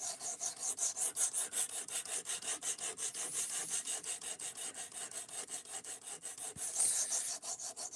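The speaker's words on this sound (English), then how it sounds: "I just set it to the sharpener or the edge that I want when I sharpen it" A knife is drawn repeatedly across a sharpener set to a 17.5-degree edge, producing a close, rhythmic rasping scrape with quick regular strokes that continue without pause and with no talking.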